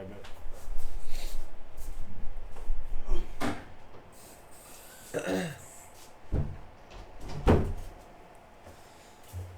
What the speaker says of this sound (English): I think I'm gonna close the door